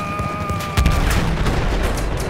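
A single heavy howitzer boom in the video game Battlefield 1, with a deep low-frequency thump, loud and close, followed by rumbling echo and background noise.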